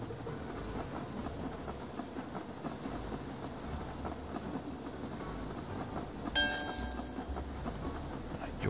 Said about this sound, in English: Send another coal train.